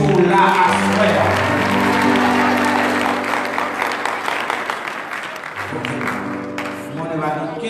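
Applause from the congregation at an evening event in a Haitian Baptist church in Philadelphia, sustained clapping mixed with crowd noise and sustained tones, with talking throughout.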